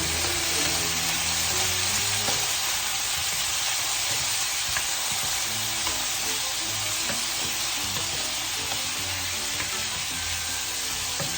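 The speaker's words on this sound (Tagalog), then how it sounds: "Ilagay natin yung ating langka." Jackfruit dropped into a hot pan sizzles in a steady, dense, loud hiss that carries on unbroken, close up and with no voices over it.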